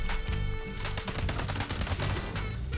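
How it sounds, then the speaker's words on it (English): Rapid rifle gunfire aimed at the Mirelurk Queen in the game Fallout 76, a dense stream of loud, close shots in quick succession with no speech over it. "As you can see, this gun completely shreds her."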